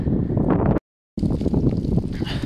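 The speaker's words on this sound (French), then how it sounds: "Mais là on a vraiment le vent qui vient fort de contre nous depuis le nord." Strong north wind gusting hard against an open rural property in Canada before winter, roaring microphone buffeting that cuts out briefly for a moment and then returns just as loud.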